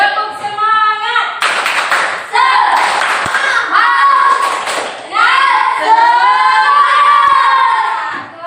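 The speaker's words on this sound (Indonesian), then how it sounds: "Tepuk semangat." Schoolchildren in a classroom perform the tepuk semangat clapping chant, loud rhythmic hand claps mixed with shouted sung phrases, several bursts of group chanting close by.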